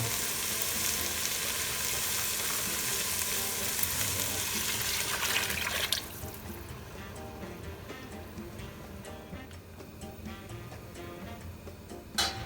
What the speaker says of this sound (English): Now I'm going to add my vegetable stock